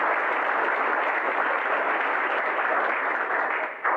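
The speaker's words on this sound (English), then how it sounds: "so give yourselves a nice round of applause" Audience applause at a recovery resource center fundraising breakfast, a steady dense wash of clapping that holds evenly for about four seconds before thinning slightly at the end.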